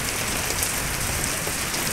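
Steady rain patters densely and evenly on a surface, with no other sounds.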